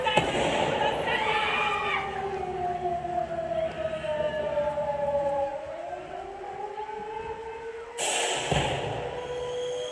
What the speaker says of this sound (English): It's war! The Germans are bombing us!